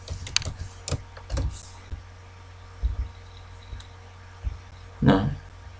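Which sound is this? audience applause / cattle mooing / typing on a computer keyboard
typing on a computer keyboard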